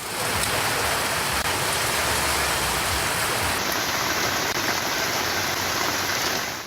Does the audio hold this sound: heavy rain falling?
yes